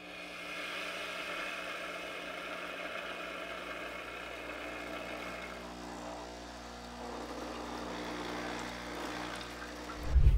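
A Sage Bambino espresso machine hums steadily with a tonal motor drone and faint mechanical whir, ending in a brief louder clunk, with no talking.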